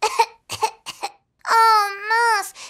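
A child coughs in several short bursts, then lets out a long, tonal, whiny vocal sound, close and loud.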